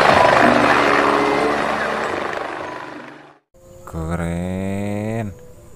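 A toy helicopter whirs with a steady rotor-like drone, then a brief pause before a higher electronic tone with buzzing harmonics plays for a couple of seconds.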